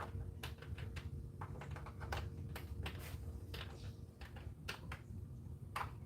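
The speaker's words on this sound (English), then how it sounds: "So we got our keyboard here." Irregular clicking taps on the keyboard of a Lenovo all-in-one PC, model F0DJ, come in quick uneven bursts, faint and close against a low steady hum.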